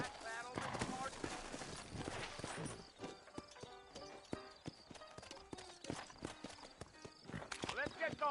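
Horse hooves clip-clopping at a steady walking rhythm in the Red Dead Redemption western video game, close and continuous, with someone talking over them.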